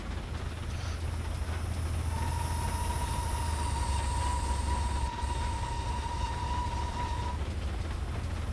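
A High Speed Train rolls past in Train Simulator 2019 on the GEML route, a steady rumbling drone of wheels on rail with a long sustained whistle-like tone over it.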